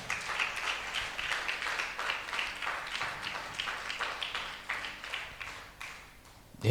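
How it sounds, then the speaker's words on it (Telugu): A church congregation claps to glorify God during a sermon on fasting, producing a moderately faint, steady rhythmic clapping that tapers off toward the end. "చప్పట్లు కొట్టి దేవుని మహిమపరుద్దాం"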